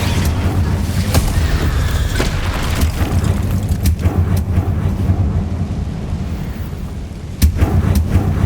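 A fiery Incendio spell blast in Hogwarts Legacy booms with a loud, rumbling burst over a steady low roar. A sharp crack near the end stands out above the sustained background din, with no voices.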